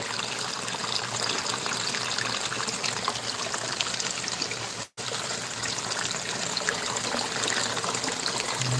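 A small waterfall splashes steadily into a pond, a continuous close rush of falling water with one brief dropout midway and no talking.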